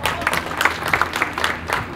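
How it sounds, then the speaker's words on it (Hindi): An audience at a Bollywood Dreamz success party bursts into dense, lively applause, rapid overlapping claps held at a strong, steady level for a couple of seconds. "इनके लिए एक बारी ज़ोरदार ताली"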